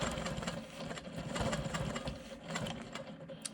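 A sewing machine hums and clatters in a quiet, continuous run while quilting smoky swirls into an elongated rectangle of a rolling stone quilt block.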